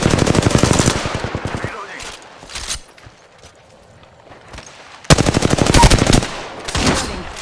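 Rapid automatic gunfire in the video game Apex Legends, loud bursts of fast shots at the start and again near the end, separated by a quieter gap with a few scattered sounds.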